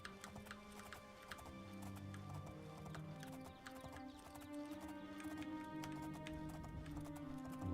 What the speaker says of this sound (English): Trying to ride a horse in Oblivion is very interesting.